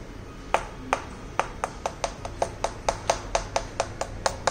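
Sharp electronic pings from a Li-Fi vehicle-to-vehicle communication system's accident alert, about a dozen short tones in a quick, even series over faint background hum, with no talk.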